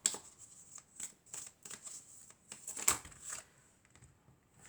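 Tarot cards shuffled by hand up close, a series of quick soft riffles and flutters coming in short bursts with brief gaps, quiet against a silent background.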